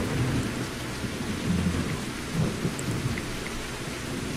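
Rain and rumbling thunder in a video game, a dense steady wash of downpour with low thunder swelling underneath, continuous and fairly close with no voices.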